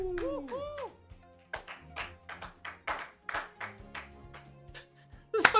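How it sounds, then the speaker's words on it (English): A series of hollow, evenly spaced claps from a game sound effect, about a dozen in a row, following a brief warbling electronic tone. "You can literally hear the sound effect of sitting in the room clapping."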